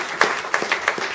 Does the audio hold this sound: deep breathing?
no